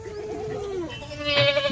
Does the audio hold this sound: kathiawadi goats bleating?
yes